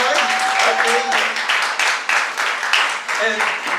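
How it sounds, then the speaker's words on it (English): Forum audience at a Clarksville Ward 5 city council candidate event claps in a broad round of applause, individual claps audible in the mix, while someone speaks over it at close range. "Give them another round of applause."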